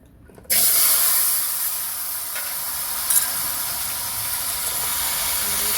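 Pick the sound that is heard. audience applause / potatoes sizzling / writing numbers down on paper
potatoes sizzling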